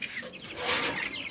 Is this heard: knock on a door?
no